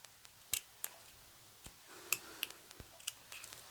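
Scissors snip through lace in a handful of sharp, irregular clicks, close and quiet against a near-silent room.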